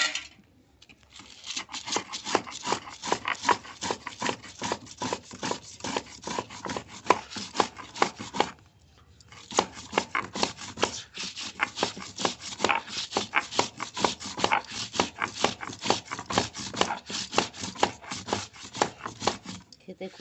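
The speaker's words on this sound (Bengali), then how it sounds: "এরপর আমি লঙ্কা, নুন আর চিনিটাকে পেষে নেব ভালো করে।" Chili, salt and sugar ground into a paste, a rapid, continuous rhythmic rubbing and scraping, close and steady, with a brief pause partway through before resuming.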